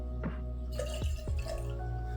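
Vodka, 1.5 ounces, is poured into a cocktail as a few distinct close drips and liquid splashes, with a continuous low hum in the background.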